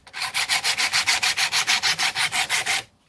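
Sandpaper rubs along the sides of a wooden dowel in about seventeen quick, even back-and-forth strokes, close and clear, stopping abruptly near the end.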